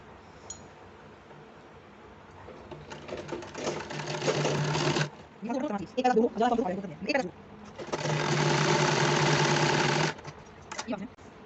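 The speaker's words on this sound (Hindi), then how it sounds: "आप इसके ऊपर इसमें मोड़ कर एक सिलाई लगा दो" A sewing machine stitches a fold of leftover fabric for a small child's kurta in two steady whirring runs, close and clear, separated by a person speaking.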